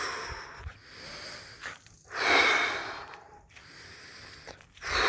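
Quick, heavy breaths during recovery after a breath-hold while walking, loud close inhales and exhales in bursts with short pauses between.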